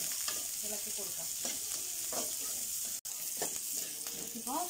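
Onions frying and being stirred in a pan, with sizzling and recurring scraping strokes of a utensil that carry on steadily close by, without any talking.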